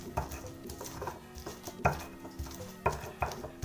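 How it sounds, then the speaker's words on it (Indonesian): Shallots, garlic, chili and kencur ground in a mortar, a series of irregular knocking and scraping strikes of pestle against stone, close and moderately loud, with no talk. "Kita rendos dulu atau ulek dulu ya sampai halus."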